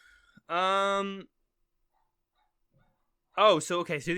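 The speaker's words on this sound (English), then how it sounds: "My dogs are barking right now" Two dog barks: a sustained, howl-like bark first, then a shorter, choppy burst of barking after a silent gap.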